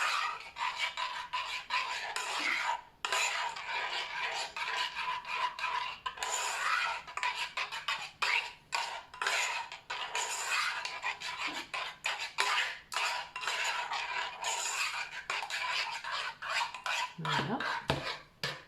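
Homemade toilet cleaning gel made with flour being stirred in a container, continuous close scraping and rasping strokes with occasional clinks of a utensil, and a single brief spoken word.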